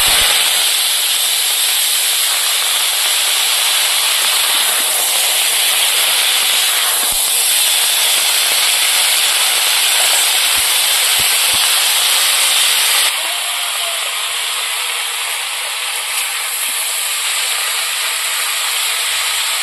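Kohlrabi leaf greens dropped into hot oil with red-fried chillies, a loud continuous hiss and sizzle that settles into a quieter, softer fizz for the last few seconds, no voices.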